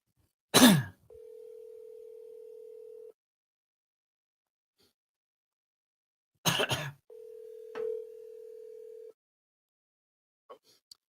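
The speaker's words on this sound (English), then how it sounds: "I'm gonna call Carlos first" A telephone dial tone heard while placing a call, two steady two-second tones each following a clunky handset or button noise, separated by silence, with a faint cough-like sound between.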